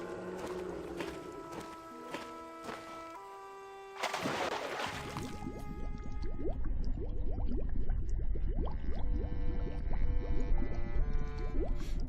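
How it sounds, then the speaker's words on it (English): A diver plunging into deep water in the adventure game Escape from Monkey Island: a sudden splash gives way to a muffled, bubbling underwater wash with rising bubbles, following a stretch of music. "Dive into deep water."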